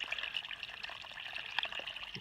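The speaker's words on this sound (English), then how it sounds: "Water's running out pretty clean." Spring water runs out of a collection box packed with stacked rock, a steady close trickle and splash that continues throughout with no talking.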